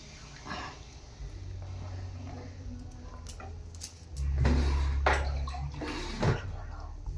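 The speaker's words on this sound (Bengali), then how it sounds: "এইবারে আমি জল দিয়ে দেবো, একটু বেশি জল দেবো," Water is poured steadily into a pot of cooking mutton curry, a low gushing sound that grows stronger partway through, with light clinks of the pot.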